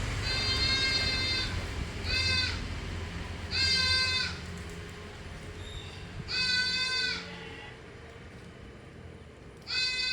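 A large dairy mother goat, 20 days after her first kidding, with two female kids, bleats five times at intervals, loud and nearby over a steady low background rumble.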